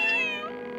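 A cartoon cat gives a single short, loud meow that slides downward and fades within a second, with no talk over it.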